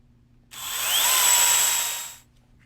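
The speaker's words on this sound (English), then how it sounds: "Again, we use your power drill." A single brief whirring burst from a power drill driving a screw while assembling a metal chicken cage, spinning up and winding down, close and loud, with no talking.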